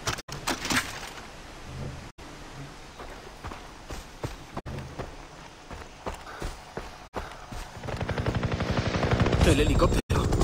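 A helicopter in the video game Far Cry 3 drones steadily under game noise and sharp clicks, its rotor chop growing louder and more rhythmic toward the end.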